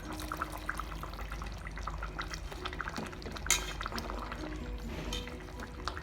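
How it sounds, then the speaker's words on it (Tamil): Coconut milk pours into a simmering Kerala-style vanjaram fish curry, a soft close liquid trickle and light bubbling with a single brief clink partway through. "தேங்காய் பால் நான் கொஞ்சமாக சேர்க்குறேன்"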